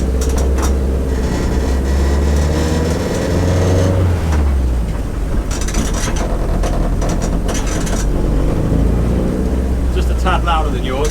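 Car engine running during a ride, a loud steady hum with shifting engine tones and a rattling, rasping texture, while people talk over it inside the cabin.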